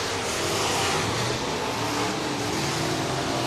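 Stock cars race around a short oval track, a dense, steady roar of several engines close by with no break in the noise.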